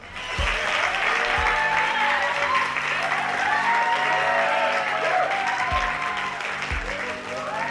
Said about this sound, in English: everyone please give a huge round of applause for my very brave son